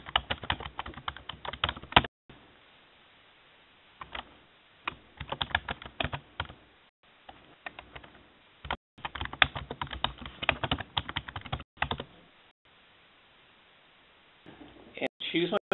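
Computer keyboard typing in bursts of quick keystrokes, close and clear, separated by short pauses and quiet stretches; someone talks at times during the session.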